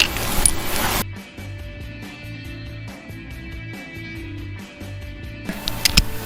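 Bolts are run into a Kohler CH25S twin-cylinder engine during a rebuild on a Grasshopper zero-turn mower, giving a close, rapid train of even metallic ratchet clicks framed by louder handling clatter at the start and end.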